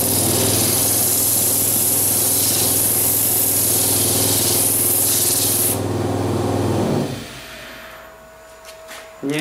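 Sandpaper rubs against a spinning wooden goblet on a woodturning lathe, a loud steady hiss over the motor's low hum, running continuously until the sanding stops and the lathe winds down, leaving faint workshop noise and a final clunk.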